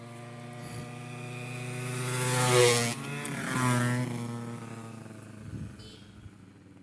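A motorcycle on a countryside road in Italy approaches, roars past at its loudest and then fades away again, a single passing engine with no talk.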